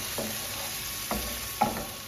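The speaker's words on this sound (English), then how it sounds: "We're gonna saute these up probably for about 5 minutes." Shallots sautéing in a pan give a soft, steady sizzle, broken by a few light stirring scrapes.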